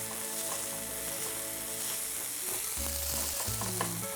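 Ingredients stir-fried hard in a pan for tteokguk, sizzling steadily and loudly throughout with scraping and stirring knocks, close up with no voices.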